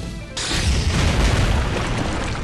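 A character's shot in Outerplane detonates in a loud, sudden boom that rolls on as a sustained, rumbling, hissing blast after a brief quiet start.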